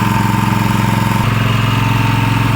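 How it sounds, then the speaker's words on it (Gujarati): Petrol engine of a Perfect brand concrete vibrator running steadily at idle, a close, loud continuous throb with a slight drop in pitch partway through, no voices. "5-3 મિનિટ પછી પેટ્રોલ એન્જિનને મળવાનું બંધ થઈ જશે"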